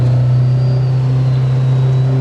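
A 600 hp Subaru GT Turbo engine running loud and close with a steady deep drone, building gently in pitch as it accelerates, with no talk over it.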